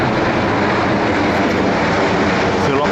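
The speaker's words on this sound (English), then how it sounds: "737 MAX 8 from Alicante right there." A Boeing 737 MAX 8 airliner arriving from Alicante roars past at Leeds airport, a loud steady broadband engine rumble and whoosh filling the moment.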